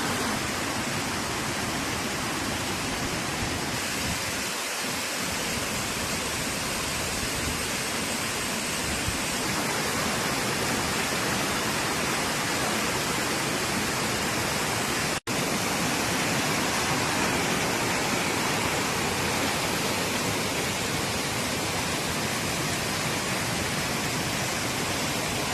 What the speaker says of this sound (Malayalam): ഈ വെള്ളച്ചാട്ടത്തിന് വളരെയധികം ശബ്ദമുള്ളതുകൊണ്ടാണ് ഇരപ്പിൽ വെള്ളച്ചാട്ടം എന്ന പേരിലും